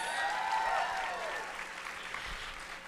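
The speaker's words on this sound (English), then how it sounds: "Can I get another round of applause for tonight's festivities?" Awards-ceremony audience giving a round of applause, crowded clapping that starts strong and gradually tapers off, somewhat distant in a large room.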